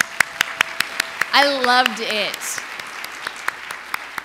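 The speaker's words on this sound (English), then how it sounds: "can we give another round of applause to that?" Scattered, sparse clapping from a summit audience on housing solutions, individual sharp claps spaced out at a moderate distance, with a brief spoken voice in the middle over them.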